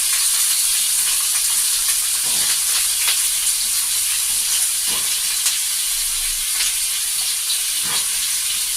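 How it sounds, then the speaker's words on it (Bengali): Potatoes, pumpkin pieces and drumstick (moringa) stalks fry in a pan with a steady, loud broadband sizzle and a few soft knocks from the vegetables being added, with no talk. "আমি প্রথমে আলুগুলো দিয়ে দিলাম, মিষ্টি কুমড়ো টুকরোগুলো কেটে রেখেছি সেইগুলো দিয়ে দিলাম।"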